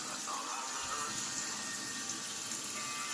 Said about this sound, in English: You wash each individual grape leaf and straighten it out.